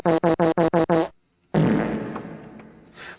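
A comic fart sound: a rapid run of six short, buzzy pulses, a brief pause, then one long, loud, ragged rasp that slowly trails away.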